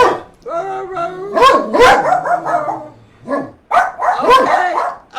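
Several dogs bark and yip together indoors, close and loud, in overlapping bursts with short pauses and some whining, tonal cries between barks.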